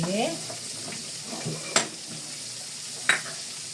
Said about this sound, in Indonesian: Sambil nunggu goreng tempe,